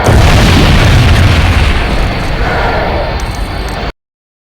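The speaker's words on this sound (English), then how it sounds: "The sound that the Star Destroyers make when they explode is louder in the sequel compared to the complete saga." A Star Destroyer explodes in the Lego Star Wars video game, a loud, deep boom with a rumbling crash that fades over about four seconds before cutting to silence.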